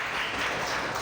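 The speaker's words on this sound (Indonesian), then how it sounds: "Tepuk tangan dulu buat" Classroom applause from students in a lesson, a steady dense patter of clapping hands filling the whole second at moderate level with no talk.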